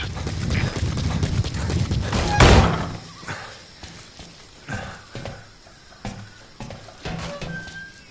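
Horse hooves in a PS4 game thud in an uneven clip-clop rhythm, close and fairly loud, with a heavier impact burst early on before lighter repeated steps.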